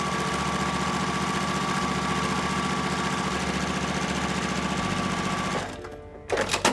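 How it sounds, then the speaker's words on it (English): A sewing machine runs steadily for several seconds, stitching fabric strips together for a pixel-style quilt, a close, continuous motor whir that stops near the end, followed by a few brief handling sounds. "So I'm gonna do a little sewing."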